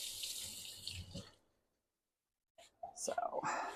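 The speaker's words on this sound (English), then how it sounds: "And I'm going to rinse this off because I might use it again." A kitchen sink tap runs over a utensil being rinsed, a close hissing water stream that stops abruptly, followed by silence, then a whispery voice and more splashing.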